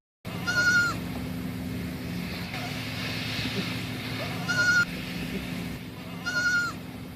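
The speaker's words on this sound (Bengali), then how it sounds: "ছয় ছাগল ছানা লাফিয়ে চলে।" Goat kids bleating, three short, clear bleats spaced a couple of seconds apart over a faint steady background hum.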